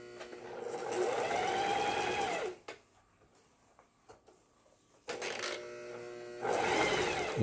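Singer 4423 household sewing machine running a straight stitch, a steady close mechanical whirring hum in two sustained runs separated by a short quiet pause.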